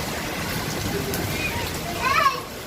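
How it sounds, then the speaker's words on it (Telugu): A heavy rainstorm with falling hailstones gives a dense, steady hiss of pouring water, fairly loud and close, with voices briefly audible near the end. "చాలా పెద్ద వర్షం అన్నమాట."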